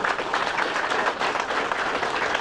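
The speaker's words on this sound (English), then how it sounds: "So a round of applause for my wife" Party guests give a loud, continuous round of applause for the host's wife, a thick, steady clatter of many clapping hands close by, with no talk over it.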